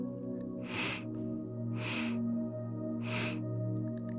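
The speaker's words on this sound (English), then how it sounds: "This is going to be a segmented breath where we break the inhale and exhale into equal parts. And so they sound like sniffs." Segmented yogic inhale in sharp nasal sniffs, three distinct evenly spaced bursts of breath audible over a steady, sustained musical drone, close and fairly soft.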